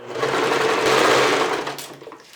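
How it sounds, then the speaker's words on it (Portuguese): Sewing machine stitching a straight seam in fabric for a thermal therapeutic cushion: a loud, close, continuous motor whir that holds steady for about two seconds, then eases off and fades. "Agora, então, eu vou passar a costurinha reta."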